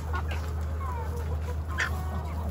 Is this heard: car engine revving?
no